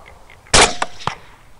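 A single loud, sharp rifle report from a 6.5 Grendel firing Hornady SST ammunition at a running hog during a thermal night hunt, followed by a couple of fainter echoing cracks as it fades.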